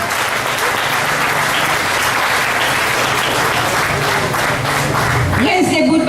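Loud, continuous applause from a crowd at a May Day workers' celebration, dense clapping throughout with a few brief voices rising near the end.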